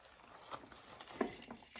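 Keys jangle and tap in short bursts while opening the box of an Aquasure Harmony series water softener, a few light metallic clinks close by with no talking.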